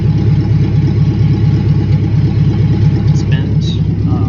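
An LS-swapped Dodge Charger engine runs steadily in gear with an open differential, a loud continuous low rumble holding even throughout, with faint brief chirps near the end.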